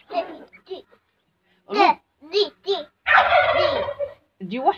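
Short gobbling, clucking poultry calls come in quick bursts, close by, with a longer rattling call near the end.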